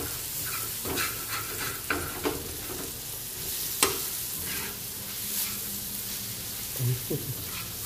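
Mixed masala frying in oil in a pan for an egg paneer tawa fry, stirred with a steady sizzle and intermittent scraping strokes of the spoon against the pan, close and moderately loud.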